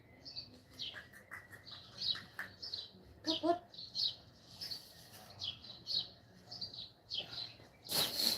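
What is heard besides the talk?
pet birds chirping before being fed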